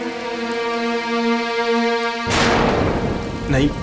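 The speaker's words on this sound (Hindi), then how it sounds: "मतलब इतनी बारिश हो रही है, इतना अंधेरा है बाहर" Heavy rain pours outside at night while a sustained musical tone plays, then a loud rushing crack of thunder breaks in partway through and a second rumble follows near the end.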